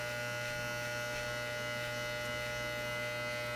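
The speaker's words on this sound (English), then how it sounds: "these are the Wahl clippers I found" Wahl hair clippers run steadily with a constant electric buzz and hum, close and unbroken, with no talking.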